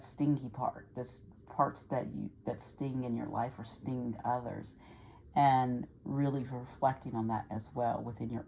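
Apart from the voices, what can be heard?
No everyday noises stand out.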